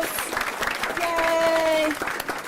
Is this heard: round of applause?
yes